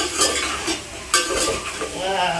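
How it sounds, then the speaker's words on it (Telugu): Tomatoes frying with okra in a pan for bendakaya sambar, a continuous close sizzle with scraping and clinking as a utensil stirs against the pan, without talk. "టమాటాలు కూడా వేసేస్తున్నా. వేగాలి, మంచిగా మగ్గాలి. ఇట్లా కలుపుకోవాలి."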